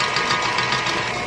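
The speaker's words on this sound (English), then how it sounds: "I'm gonna let this whisk while I mix the dry ingredients." An electric mixer whirs steadily, loud and close, as it whisks cake batter in a continuous drone.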